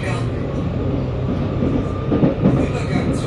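A Berlin U-Bahn IK20 train runs on line U12, giving a loud, continuous rumble with wheel clatter and faint squeal from inside the carriage, and brief voices are heard under the noise.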